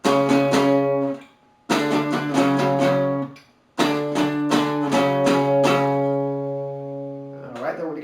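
A 7-9 power chord on electric guitar is struck in three separate bursts, each a chugging run of rapid picked hits, with pauses between and a touch of talk at the very end.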